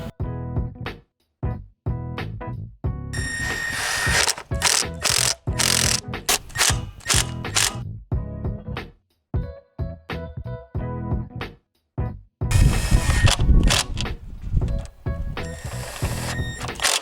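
A hand ratchet snugs down valve cover bolts on a 2002 Honda Civic non-SI, with many bursts of rapid clicking separated by short pauses as the worker moves from bolt to bolt.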